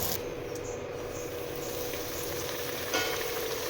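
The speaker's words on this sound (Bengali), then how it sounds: "তেল নিয়েছি, তেলের মধ্যে ঘি দিয়ে দিয়েছি, আর লুচিগুলো দেখো নিজে নিজেই কী সুন্দর ফুলে উঠবে।" Luchi fry in oil mixed with ghee, giving a dense, steady crackling sizzle close by, with one slightly louder burst toward the end.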